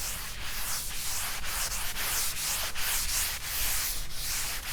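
Steady, rough rubbing of a hand across a rough sanded wooden tabletop in repeated back-and-forth strokes, a dry scratchy texture that continues without pause.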